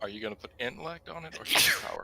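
A person sneezes once, loudly and close, right after a short stretch of conversational speech.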